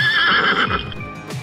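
A horse in an animated Hindi folk tale about a golden horse gives a loud, close whinny that rises and wavers for about a second, then trails off into a few softer snorts and low hoof-like thumps.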